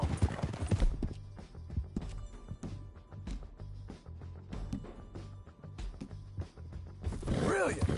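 Horse hooves clip-clop through a Red Dead Redemption 2 game scene, a steady run of hoofbeats mixed with game sounds and people talking, ending in a whinny-like burst.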